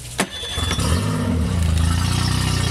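A brief electric-start cranking whir, then an outboard motor on a 13 ft Boston Whaler catches and settles into a steady, rumbling idle, close and fairly loud.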